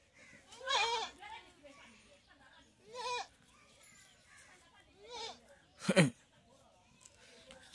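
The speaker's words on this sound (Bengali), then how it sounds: "এখানে বেড়া আর ছাগল বেশি।" Several goats bleat one after another at intervals, fairly close, with quiet background between calls and a louder bleat near the end.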